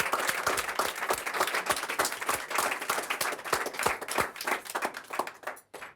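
A small group of people claps by hand at a dinner table in Spain, after a dessert of rose vinegar and crème fraîche infused with burnt roses and rose pollen is served; the claps are close, uneven and scattered, tapering off at the end.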